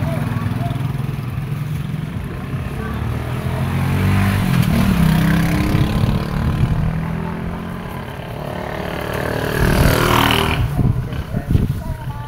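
A motorcycle passes on a rural road in Don Salvador Benedicto, Negros Occidental, its engine roar swelling and fading with a second louder surge near the end, with people chatting nearby.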